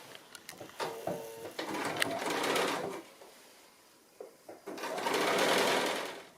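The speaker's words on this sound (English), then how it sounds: "I'm going to go ahead now and stitch my binding down onto the front" A sewing machine stitches quilt binding down onto the front, close to the folded edge, in two steady whirring runs separated by a short pause, with a few soft clicks at the start.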